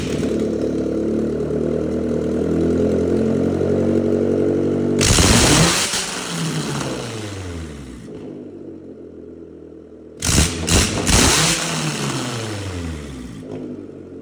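A Honda car engine revs hard and loud at close range, with steady droning idle between two sharp, roaring bursts of throttle that surge and fall away.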